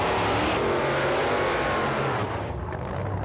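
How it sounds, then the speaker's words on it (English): A drag racing car does a big, strong burnout at a drag strip, a loud sustained roar of engine and spinning tyres that eases slightly toward the end. "Clive Hudson there with a big, strong burnout"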